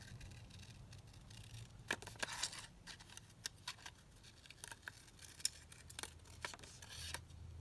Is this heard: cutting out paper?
yes